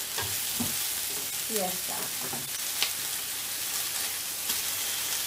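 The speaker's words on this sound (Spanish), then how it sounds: "Les he añadido la cebolla en cuanto está el aceite caliente." Onion fries in hot olive oil in a pan, giving a constant bright sizzle with stirring scrapes throughout. Someone speaks briefly near the end.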